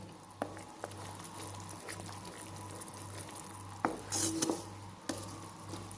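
Sugar syrup for almond burfi bubbles in a pan while a spoon stirs and scrapes, a steady sizzling bed with occasional clinks and a low hum throughout.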